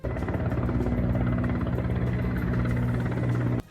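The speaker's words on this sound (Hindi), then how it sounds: "हेलीकॉप्टर की मदद से आग पर काबू पाने के लिए कई राउंड पानी की बौछार की गई" A firefighting helicopter flies over a fire, its engine and rotor producing a steady, loud, droning hum that continues unbroken for several seconds before cutting off.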